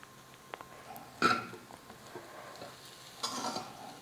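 Soft, quiet scraping and stirring as coriander is mixed into coconut rice in a pan over a low background hiss, with two brief louder scrapes.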